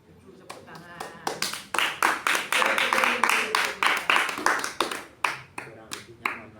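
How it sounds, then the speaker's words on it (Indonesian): A classroom of students claps hands together in a steady, rhythmic pattern during a teaching-practice lesson, the sharp claps close and loud, with voices chanting along in time. "Tujuh tepuk tangan."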